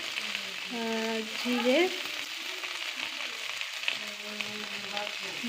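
Cauliflower pieces fry in oil in a pan, giving a steady, close sizzle throughout, while a voice speaks briefly over it.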